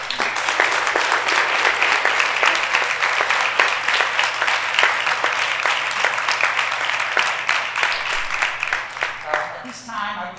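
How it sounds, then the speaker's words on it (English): An audience claps steadily and loudly in sustained applause for a celebrated teacher at a ceremony, the dense clapping fading out near the end. "I'd like to give her a few rounds of applause."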